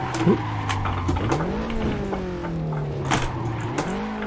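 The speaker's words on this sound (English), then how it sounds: "As I spin the car" A Lotus Elise SC in the Assetto Corsa racing game on the Nordschleife spins out, its engine tone sliding down and rising again over steady road and tire noise, loud and close throughout.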